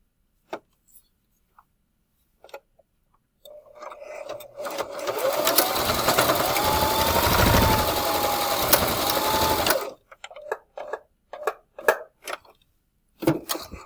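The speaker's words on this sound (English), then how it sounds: "I am going to sew along the whole seam to encase the elastic on this side" A sewing machine runs a steady seam along the edge of a fabric face mask to encase the elastic, a continuous whirring burst of about six seconds framed by scattered handling taps before and after.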